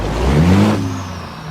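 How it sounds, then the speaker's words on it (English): A custom long, lowered truck chassis in American Truck Simulator gives a short, loud, close engine rev that rises and then falls back into a low idling rumble, with no talking. "I love the sound of that engine"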